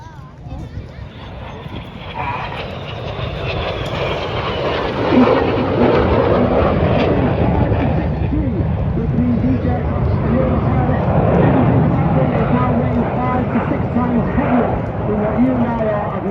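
Red Arrows jets fly the carousel display at an Armed Forces Day show over a loughshore park, a continuous roaring jet rumble that swells and holds loud, with a commentator talking over it.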